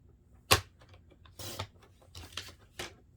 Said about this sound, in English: I'm going to cut down another 1/2 inch